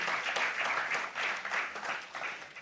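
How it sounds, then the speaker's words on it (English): Conference audience at a law and business event applauds sponsors, a dense, even roar of many hands clapping together, fairly distant and softly rolling with slight swells, no voices over it. "A round of applause for them,"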